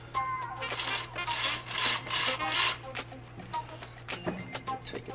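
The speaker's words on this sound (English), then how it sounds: "the main chain still spins" A chainsaw chain is pulled around its bar by hand during repair of a broken saw, giving a series of rough, raspy ratcheting bursts that rise and fade, fairly close, over a low steady hum.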